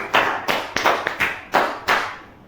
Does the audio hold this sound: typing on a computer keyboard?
no